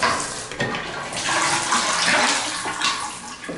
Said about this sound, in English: You can see sort of the shadow of the shower. And hear that it's working really well.